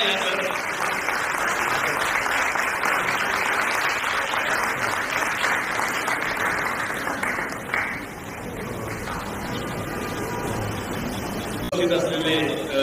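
Enthusiastic audience applause at a church bicentennial anniversary celebration in Thane, a dense sustained roar of many hands clapping for most of the stretch, thinning slightly toward the end as a voice begins speaking.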